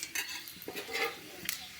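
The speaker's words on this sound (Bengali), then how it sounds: "ওই তেলে ফোড়নে দেব শুকনো লঙ্কা, একটা তেজপাতা আর গোটা জিরে।" Dried red chilli, a bay leaf and whole cumin crackling in hot oil left over from frying fish, with light stirring and a few utensil clinks against the pan, close and fairly quiet.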